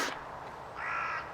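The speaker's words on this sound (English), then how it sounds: "Right as the crow is speaking." A single crow caws close by, one clear, harsh call that rises out of a quiet background and then fades.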